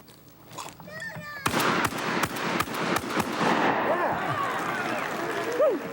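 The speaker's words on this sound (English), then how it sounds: "He's going to have to shoot fast." Shots crack fast in a rapid run at a target shooting show, several sharp reports spaced close together outdoors, with a voice talking over and around them.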